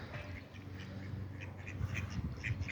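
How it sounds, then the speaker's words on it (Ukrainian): Ducks on a lake, drakes with a single hen, quack repeatedly close by in short bursts that grow more frequent toward the end, set against steady outdoor background noise. "Селезні одні, качури і одна качечка."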